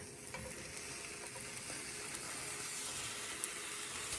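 A buttered grilled cheese sandwich fries in a pan with a soft, steady sizzle that stays even throughout, close by and fairly quiet, with no voices.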